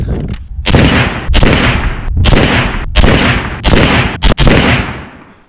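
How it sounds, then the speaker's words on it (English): Rifle shots from a Winchester fired during load testing with Reloader 15 powder: five or six loud, sharp reports spaced roughly a second apart, each followed by a brief decay, with no talk. "Okay, then we have done some shooting."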